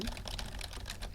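Rapid, steady clicking of keys on a computer keyboard, close and fairly quiet.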